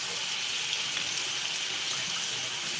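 Broccoli being rinsed under a running kitchen tap, a steady close hiss and splash of water that holds the whole time, with no one talking.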